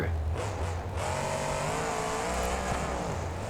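The Raminator monster truck in BeamNG Drive drives out with a steady, loud engine drone and rising revs, continuous with no voices.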